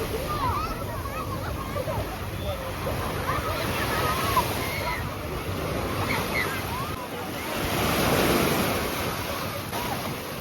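Black Sea waves wash steadily onto a beach at Chornomorsk, a continuous surf hiss with wind noise, swelling louder for a moment near the end.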